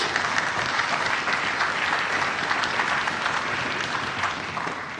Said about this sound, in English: we're going to give another big round of applause for Lily Birch